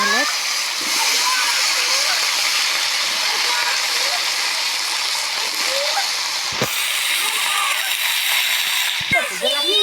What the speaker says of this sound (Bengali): পেঁয়াজ রসুনটা আমাদের লাল লাল করে ভাজা হয়েছে এবার চিংড়িগুলো দিয়ে আমরা